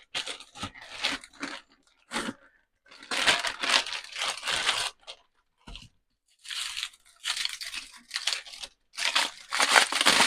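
Crinkling and tearing of packaging as a huge soup bone with meat and fat still on it is unwrapped, coming in loud close bursts separated by short pauses.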